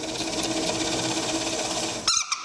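A Forstner bit bores a clean hole through wood for a Windsor stool, a steady close whirring grind that runs unbroken for about two seconds and then stops abruptly, leaving a couple of brief knocks.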